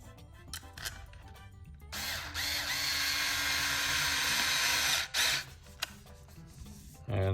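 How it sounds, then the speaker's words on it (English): An electric screwdriver drives countersunk screws into a Tekno SCT410.3 short course RC truck kit, whirring steadily for about three seconds between bouts of close plastic handling and clicks. "I'll go ahead and use the electric screwdriver for this one."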